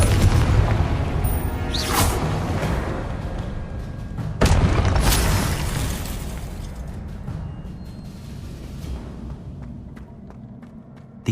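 In Hogwarts Legacy, a Confringo spell erupts during a spell-casting fight, a loud booming blast with bursts and crackles layered over dense, sustained game noise that slowly fades.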